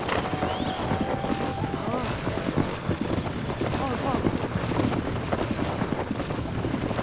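Horse hooves clip-clopping in The Legend of Zelda: Tears of the Kingdom, a light rhythmic trot under wind and game ambience while someone talks over it.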